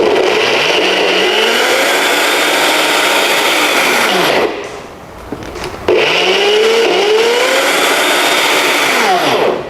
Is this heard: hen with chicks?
no